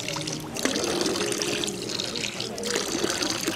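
Cold water trickling and splashing at a waterfall in Lauterbrunnen valley, Switzerland, a steady close wash of flowing water with brief handling noises and a faint murmur of voices.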